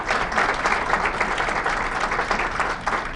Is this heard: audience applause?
yes